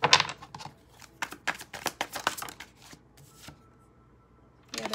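Tarot cards being shuffled in quick riffling bursts with short pauses between, close up and moderately loud, with no talking.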